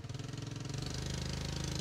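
A motorcycle approaches on Pangkor island. Its engine is faint and distant, with a rhythmic pulsing that settles into a steadier, fuller throb as it nears.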